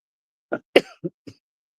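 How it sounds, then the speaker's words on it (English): Four quick, dry allergy coughs in a row, close and clear, with silence before and after. "Sorry for the coughing"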